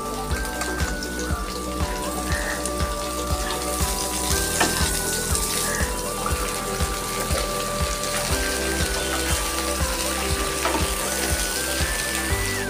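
Small pieces of bottle gourd sizzle steadily in hot oil with browned garlic, a continuous crackling fry under melodic background music.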